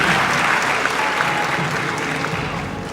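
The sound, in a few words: audience applause at an awards event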